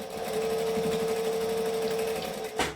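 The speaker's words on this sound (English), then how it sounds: "So I do a couple of stitch forward, a couple stitches back." A sewing machine stitches steadily, running a few stitches forward and a few back on a small make-up brush or pencil case, a continuous close hum with a brief louder burst near the end.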